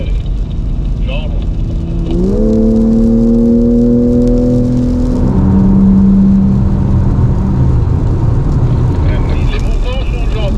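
BMW M3 Touring with a 510 hp engine on a POV drive at Spa-Francorchamps, the engine note climbing in pitch under acceleration, then easing off into a steady, lower drone, heard from inside the car over road and wind noise.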